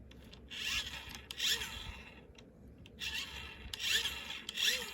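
Soft whirring rasp as the 2.55 inch gear on a Snap Circuits geared motor is spun by hand with the switch off, coming in a few short, faint bursts close by.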